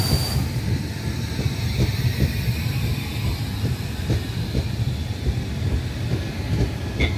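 A Trenitalia regional train from Florence rolls into a platform at Firenze Rifredi station with steady low rumble, rhythmic wheel clatter and a faint hiss, continuous and fairly close, with no talking.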